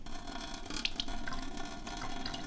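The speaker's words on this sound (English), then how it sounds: "we are waiting for the tank to fill up so that we can drain it out" Water trickles into an Apec ROES-PH75 reverse osmosis system tank under a sink, a faint steady hiss of running water with small drips and splashes.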